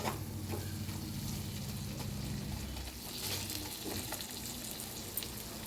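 Green chillies sizzle and fry in a pan while being stirred, a continuous faint crackling hiss with soft scraping movements and no talking.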